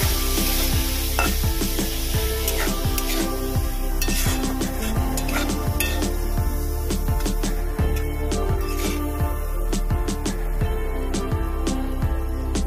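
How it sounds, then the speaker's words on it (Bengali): Spice masala of turmeric, cumin, coriander, chili powder and salt being sautéed in a pan for a Bengali prawn dish, a dense continuous sizzle with rapid rhythmic scraping and clattering strokes throughout, loud and close. "এবার এই মশলাটাকে ভালো করে কষিয়ে নেব"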